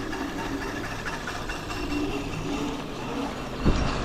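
Nissan GTR with a wheel fault giving a low rumbling, train-like drone, faint and steady with a single sharp knock near the end.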